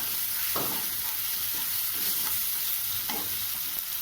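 Ginger garlic paste fries in a hot pan with a dense, constant sizzle, while a spoon scrapes and stirs it in a few distinct strokes, close and fairly loud throughout.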